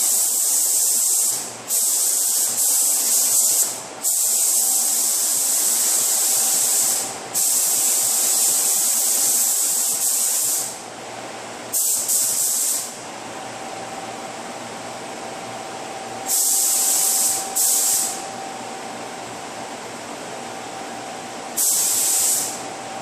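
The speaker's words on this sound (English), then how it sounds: "It's ready for primer now. I'm gonna put one coat over the whole area" A spray gun lays primer over the repaired front end of a 2011 Ford Taurus damaged in a deer strike. Loud, close hissing passes of several seconds each are broken by short pauses and briefer bursts, over a steady mechanical hum.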